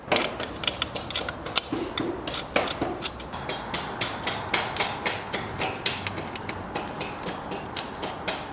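Two 10 mm wrenches tighten bolts during assembly of a KOVI 300 Lite F motorcycle, giving close, rapid metallic clicks and ratcheting taps in a steady repeated rhythm with occasional sharper knocks.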